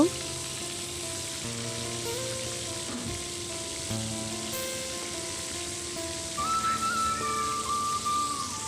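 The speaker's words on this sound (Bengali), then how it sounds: "তেলে দিয়ে দিলাম সবগুলো মাছ আমি একটু লাল লাল করে ভেজে নিব" Fish rubbed with turmeric and chilli frying in hot oil, a continuous sizzle and crackle at moderate level with faint tonal hums in the background and no speech.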